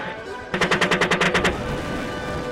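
A military machine gun fires a rapid burst of about ten evenly spaced rounds at a target from a vehicle during combat in Afghanistan, loud and close, then the burst cuts off into a steady background rumble.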